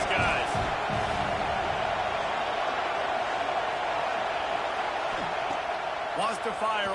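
Football stadium crowd at an Arkansas Razorbacks game, a loud, continuous roar that swells at times, with a commentator talking over it.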